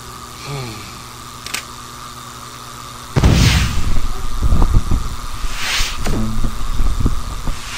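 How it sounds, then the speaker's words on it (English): A rocket launcher fires in the Henry Stickman video game, a sudden loud blast followed by a rumbling, crackling explosion that sustains for several seconds. "Rocket launcher."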